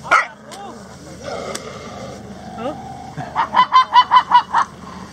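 A male dog barks in a steady run of about eight yips while a girl tries to play with it outdoors during the rice season in Thailand, with a voice and faint background sounds heard earlier.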